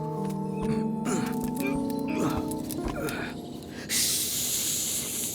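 A voice is heard, then a person lets out a long, sharp hiss through the teeth, imitating a snake.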